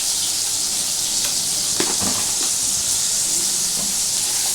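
Onions frying with sugar in a pan for a prawn curry give off a steady, loud sizzling hiss throughout, with a few faint scrapes and clicks of stirring. There is no talk.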